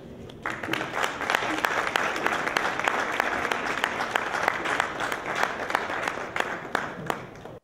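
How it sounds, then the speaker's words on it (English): Sustained applause from an audience at a Nigerian Union Youth Day gathering in Sweden, dense and steady clapping at close range for about seven seconds, with faint voices mixed in. "Please, can we give him a round of applause?"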